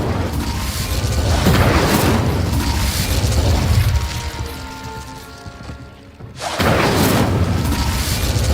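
Incendio fire spell explosions in Hogwarts Legacy, loud booming blasts with crackling bursts, a fading tail with ringing tones, then another heavy blast near the end.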